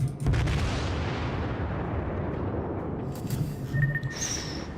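Main guns of the Japanese Tier V battleship Kongō in World of Warships: a heavy boom opens, followed by a long decaying rumble and distant echoing thuds, with faint shell whistles at the end.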